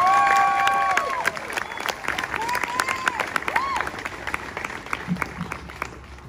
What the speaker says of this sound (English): We should give another round of applause to Rockin' Mr.